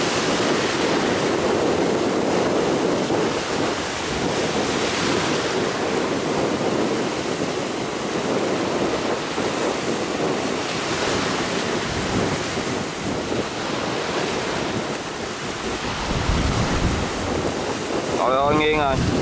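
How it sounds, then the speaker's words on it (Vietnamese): Strong wind roars across the microphone on a small fishing boat heading out through big waves at sea. Surf and water rush along under it, and a brief voice comes near the end. "Quá gió luôn."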